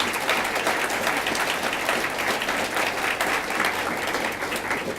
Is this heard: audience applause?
yes